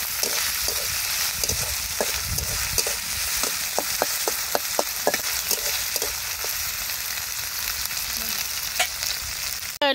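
Chopped onion and green chillies fry in oil for a Bangladeshi fish curry, giving a steady close sizzle broken by a quick run of sharp spoon-on-pan scrapes and taps.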